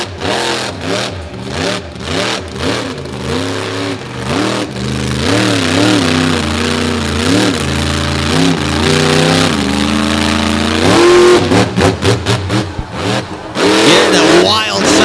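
Dirt Crew monster truck at a beach show roars through a revving climb during a big-air jump, the engine note rising and falling loudly throughout while an announcer talks over it.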